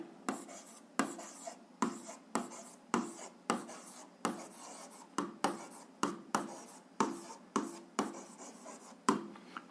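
Handwriting an algebra formula: about fifteen sharp, scratchy strokes in a steady rhythm, each a short rubbing burst followed by a brief gap, close and alone.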